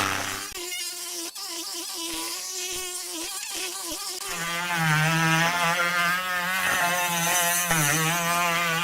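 A Tork Craft mini grinder whines at high speed, its pitch dropping and steadying as it sands against an edge, continuous and close with no talking.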